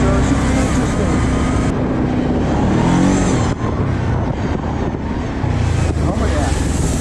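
Quad ATV with a rebuilt engine and non-working four-wheel drive churning through slippery mud, a loud, steady motor drone with shifting revs and splashing noise throughout, close to the listener, with a voice speaking over it at times.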